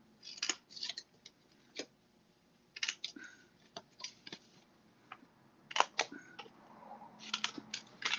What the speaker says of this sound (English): So now I'm going to cut this one.